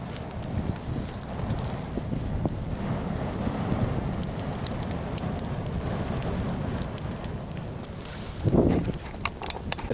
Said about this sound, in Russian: Костер практически прогорел.